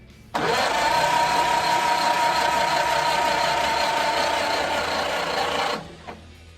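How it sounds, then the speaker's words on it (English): A 1929 Ford Model A Tudor's engine cranking over on its starter, a steady, fast whirring grind that runs continuously for about five seconds, close and loud, then cuts off abruptly. "so she cranks over pretty good"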